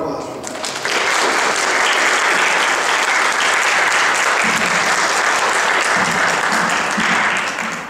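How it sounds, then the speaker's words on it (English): Loud, sustained applause from a church congregation, many hands clapping steadily for several seconds after a brief moment of quieter sound. "round of applause for that."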